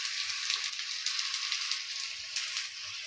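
Sliced carrots hit frying onions in a pan for homemade atta noodles, giving a steady, close hiss of sizzling oil with faint crackles and no talk.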